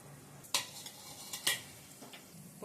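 Whole spices (fennel seeds, a bay leaf, star anise and cardamom) sizzle softly in hot oil while a spoon stirs them, giving a few quiet metallic scrapes and clinks against the pan over a faint frying hiss.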